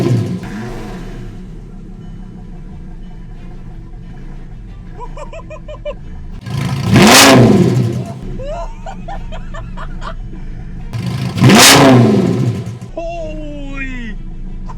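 An Audi R8 V10 is cold-started and revved, two sharp loud engine blips rising and falling with rough idle between them, while people laugh and chatter nearby.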